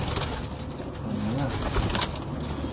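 A pigeon coos inside a loft, a soft wavering low call in the middle of a busy, noisy room with background clatter, no clear talking.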